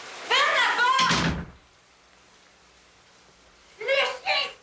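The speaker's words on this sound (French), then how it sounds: "Ferme la porte!" A door slams shut indoors with a single heavy, low thud, right after a voice shouts and followed by a short quiet stretch before talking resumes.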